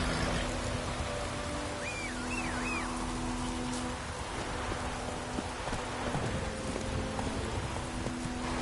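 Roach the horse galloping in The Witcher 3, hooves clip-clopping in a steady rhythm beneath heavy rain and a low background rumble.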